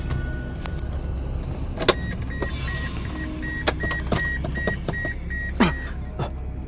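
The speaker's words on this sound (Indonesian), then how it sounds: "Kok mati sih mesinnya?" A car engine cuts out and won't start, with repeated mechanical clicks and short bursts over a steady hum, an intermittent whine and a dropping tone near the end; no talking is heard.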